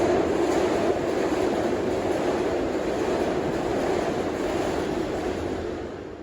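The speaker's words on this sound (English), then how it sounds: "SEPTA uses electric multiple units, which operate more like a subway, except with higher speeds" A SEPTA regional rail electric multiple unit train in Philadelphia makes a steady, loud rolling rumble and broad hiss that holds throughout and eases slightly at the very end.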